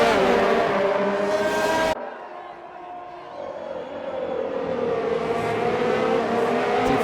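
Formula 3 race cars in a racing video game run side by side at a round in Australia, engines droning loudly and continuously with a short break, then swelling again.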